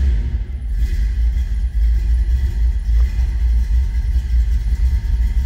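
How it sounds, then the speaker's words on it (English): A 1960 Chevrolet Impala Bubbletop engine runs at a steady idle, giving a continuous deep rumble with a faint mechanical hum over it and no voices. "Let's go ahead and fire this up. Let's hear it run."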